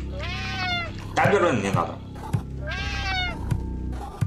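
A cat in the Friday the 13th Killer Puzzle video game lets out two drawn-out, wavering meows, close and clear, with someone talking over and between them.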